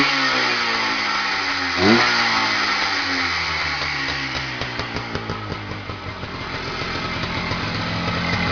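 A vintage 1973 motocross motorcycle engine runs up close and loud. It rises in a sweeping rev, settles into a choppy, pulsing idle with distinct putts, then holds a steady drone.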